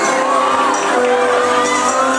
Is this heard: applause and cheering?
yes